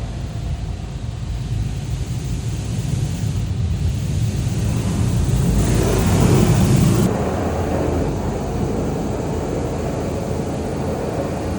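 A car rolls through an automatic robotic car wash, with a steady roar of spraying water and machinery that swells louder midway, then eases back to a constant rush.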